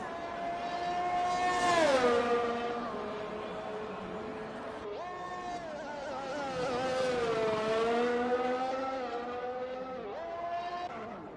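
Race car engines in a sim racing game at the Brazil circuit whine loudly, rising and falling through repeated upshifts and downshifts, with a continuous high-pitched note.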